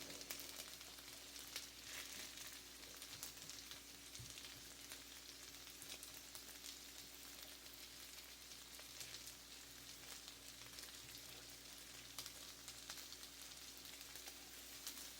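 Leftovers fry in a pan with a steady, soft sizzle and crackle that continues evenly throughout, quiet and close, with no talking.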